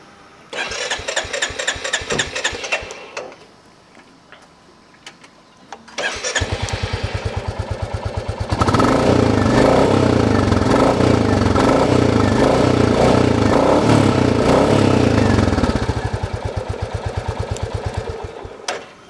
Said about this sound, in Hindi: मैं एग्जॉस्ट नोट चालू कर देता हूँ अपनी रॉयल फील्ड का